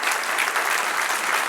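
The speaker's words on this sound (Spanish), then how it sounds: "Denle un aplauso al Señor" Congregation applauding in a Spanish-language church service in the Bronx, New York, a brief, even burst of many hands clapping together, bright and sustained with no voices on top.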